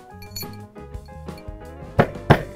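A mallet taps a metal ring stretcher on its mandrel: light metallic taps and clinks, a few soft hits followed by two sharper, ringing strikes close by.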